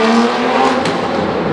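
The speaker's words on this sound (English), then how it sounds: "this guy does mad crazy launches" Porsche Carrera GT launching hard, a loud, close engine roar sustained across the whole brief moment.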